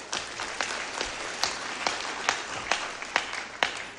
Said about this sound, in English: Can we clap for Madam PS kindly?